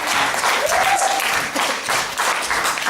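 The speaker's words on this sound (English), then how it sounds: "Give him a round of applause, everyone." Steady applause from a crowd, dense clapping sustained throughout with a faint voice briefly rising above it.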